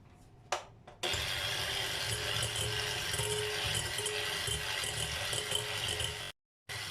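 An electric mixer whisks ingredients for homemade Kinder filling, giving a steady close rattling whir for about five seconds before it briefly cuts out, with a few knocks just before it starts.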